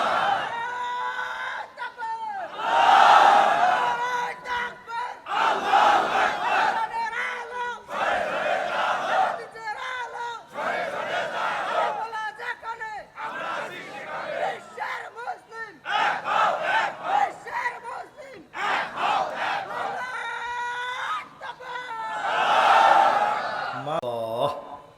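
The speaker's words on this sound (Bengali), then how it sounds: "জোরে একটা তাকবীর দেন, লিল্লাহে তাকবীর" A large crowd at an Islamic religious gathering roars takbir in repeated bursts of loud massed shouting, several swelling waves separated by short lulls, full and echoing across a big open space.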